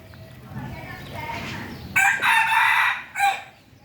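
A rooster crows loudly and close by, a long strained call followed by a shorter one, after a stretch of low background murmur.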